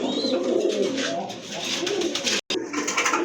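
Pigeons offered for sale coo repeatedly at close range, including a black-and-white pair, with a steady layer of soft calls and rustling that drops out briefly near the end.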